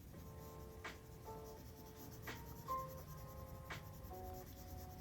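Colored pencil shading on paper, a soft continuous scratchy rubbing with a few sharper strokes, faint and close, with no voices.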